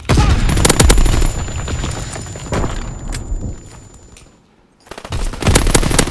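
Video game artillery firing, dense bursts of rapid shots and booms that fade into a short quiet gap before heavy fire resumes, loud and close.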